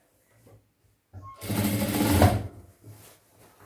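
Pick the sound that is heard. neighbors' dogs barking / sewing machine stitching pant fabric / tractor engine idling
sewing machine stitching pant fabric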